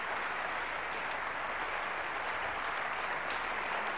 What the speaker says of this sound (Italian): Un applauso per il professore.